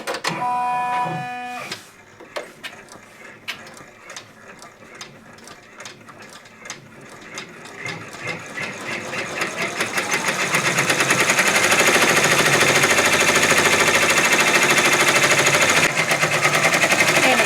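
A Brother or BabyLock multi-needle embroidery machine stitching cross hatching on an appliqué design: a steady, fast mechanical clatter that starts slowly with spaced ticks, then speeds up into a loud continuous rattling whir, close and with no talking.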